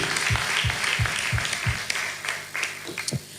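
Audience clapping at an Easter gathering in Guinea, heard over a steady beat of deep, regular thumps that keep a quick rhythm; the claps are moderately loud and uneven, and the pulse breaks off near the end.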